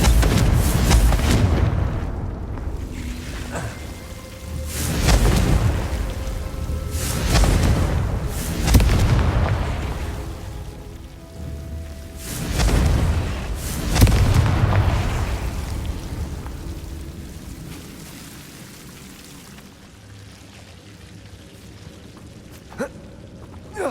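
Confringo blasting spells in Hogwarts Legacy, a string of loud booming explosions with crackling bursts arriving every few seconds, then fading to quieter ambience near the end.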